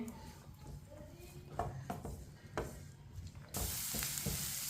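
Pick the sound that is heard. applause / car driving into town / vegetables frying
vegetables frying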